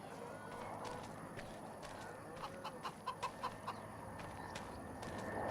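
Chickens cluck at a chicken coop on a farm in Farming Simulator 25. A short run of rhythmic clucks rises midway over a steady ambient bed of farm noise.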